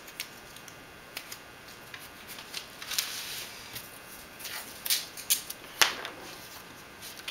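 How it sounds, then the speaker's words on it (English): Tape being pulled and pressed to join mylar sheets for a composite plane wing layup, heard as scattered crinkles, short ripping tears and light taps, close and fairly quiet over faint hiss. "then we tape the mylars together in a few spots"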